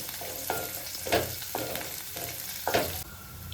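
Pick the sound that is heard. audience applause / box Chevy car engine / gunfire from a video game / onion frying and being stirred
onion frying and being stirred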